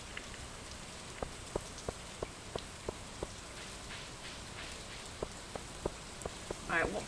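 Steady rain falls in the Stardew Valley video game, a continuous hiss dotted with sharp, regularly spaced drip taps.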